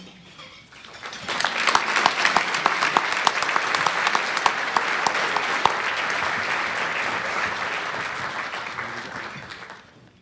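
A large audience at a gala presentation breaks into enthusiastic applause, dense clapping that rises quickly, stays loud and steady for several seconds with a few sharper individual claps, then tapers off.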